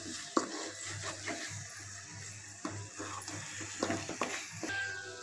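Plain noodles sauté in a pan with soft sizzling and intermittent stirring scrapes and clinks, quiet and close, no talk.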